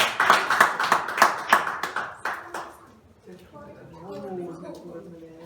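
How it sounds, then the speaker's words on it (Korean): Church congregation clapping for a child's award at a New Year worship service, with distinct rhythmic handclaps for about two and a half seconds before they fade and a person speaks. "박수."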